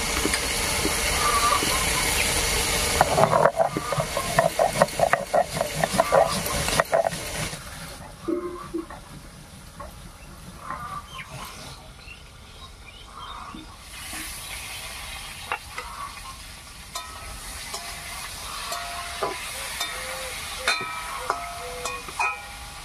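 Pointed gourd and potato pieces fry in hot oil in a pan, a steady bright sizzle with crackling pops, louder at first then settling into a softer continuous hiss with occasional spatters.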